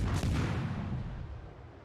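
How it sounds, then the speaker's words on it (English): A warship's guns fire shells in World of Warships, one deep booming report close by that rolls off and fades over about two seconds. "fire some shots at this guy"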